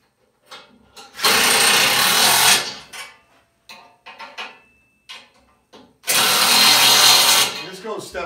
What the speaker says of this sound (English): if you use the power driver here, it saves a little bit of time